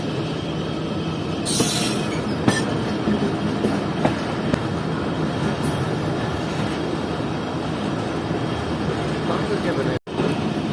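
The Fareed Express passes close by on a temporary diverted track beside a canal bridge under construction, a loud rolling rumble with sharp clacks and wheel squeals rising over it.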